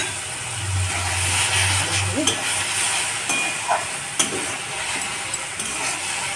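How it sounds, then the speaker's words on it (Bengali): A Bengali fish kalia masala with whisked yogurt and cumin powder sizzles in a pan while being stirred, a steady frying hiss broken by a few sharp scrapes and taps, with a low hum early on. "ভালো করে কষে দেবো।"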